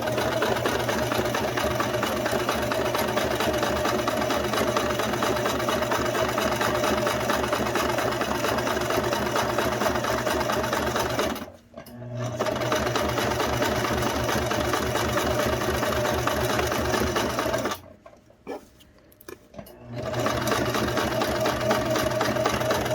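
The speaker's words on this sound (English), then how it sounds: "You can use a finishing foot if you have a finishing foot for the industrial machines. And I'm going to top stitch along this edge." An industrial sewing machine top stitches along the edge of a trouser fly, its close, continuous motor hum and needle rattle running steadily with two short pauses, the second longer, before stitching resumes.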